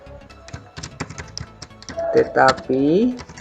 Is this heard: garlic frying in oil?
no